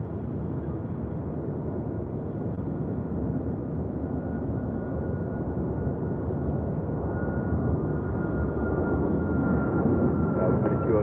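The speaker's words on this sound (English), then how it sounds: "Air Canada flight 782 heading to Toronto. It's a 737 at MAX 8." An Air Canada Boeing 737 MAX 8 departs from runway 25R on the south side of LAX, a steady broadband engine roar that holds loud and even throughout, with a faint whine rising near the end.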